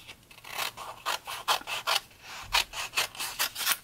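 Scissors snip through paper for a Christmas booklet craft, a quick run of close, crisp cuts in a steady rhythm with no voices.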